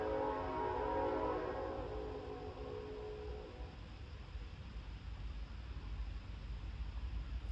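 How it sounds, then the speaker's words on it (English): A passing train rumbles in a steady low roar that is loudest at first, then gradually fades while staying broad and noisy throughout, with no talk over it. "sorry, there's a train."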